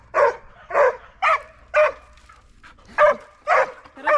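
A dog that has climbed a tree squeals in a rhythmic run of about seven sharp, high yelps, each separated by brief pauses. The cries are loud and close over a faint low background.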